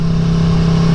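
A 2018 Aprilia Tuono motorcycle engine revs hard and close in a steady, loud mid-range drone while the bike accelerates along a road, with no talk over it.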